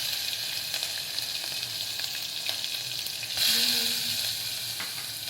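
Mustard seeds, asafoetida and chillies sizzling in hot oil, a steady hissing fry with faint crackles that swells briefly louder partway through, close by, with no voices.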